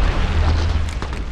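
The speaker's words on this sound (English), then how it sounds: "Incoming grenade." A single loud, deep grenade blast in the video game Apex Legends, a rumbling boom that fills the whole short moment without any speech.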